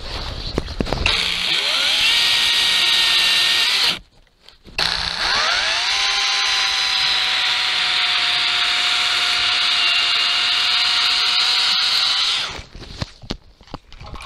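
A motor saw, most likely a chainsaw, cuts through a branch while a cherry tree is pruned: a loud, sustained high whine that dips briefly as the blade pauses, then runs steadily before stopping, close by and alone.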